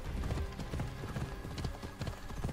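Horse hooves clip-clopping at a steady brisk pace while riding in Assassin's Creed Odyssey, near and continuous over a busy game background.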